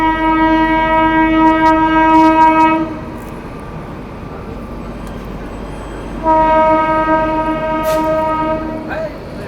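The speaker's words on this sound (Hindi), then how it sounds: "हड़पसर बनारस अमृत भारत एक्सप्रेस आ रही है" Harapsar–Banaras Amrit Bharat Express arriving at a station, its horn sounding a loud sustained blast, falling silent for a few seconds, then blaring again, over the rumble of the train.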